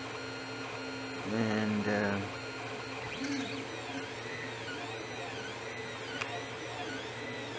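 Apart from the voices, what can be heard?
3D printer printing a bilge pump part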